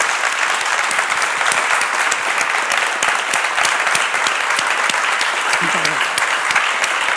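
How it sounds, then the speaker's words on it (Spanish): An audience at a public conversation event in Toledo with the artist Canogar claps, dense and sustained applause filling the room steadily with no break, a few voices faint underneath. "pues un aplauso"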